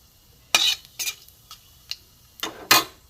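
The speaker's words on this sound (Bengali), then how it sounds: "প্রথমে আমি দেবো রসুন কুচি, পেঁয়াজ কুচি, কাঁচা লঙ্কা কুচি দিয়ে একসাথে আমি নেড়ে নেবো" Garlic, onion and green chili being stirred in a pan of hot mustard oil with cumin seeds, giving a series of sharp spoon-on-pan scrapes and clinks in irregular bursts over a faint sizzle, with no talking.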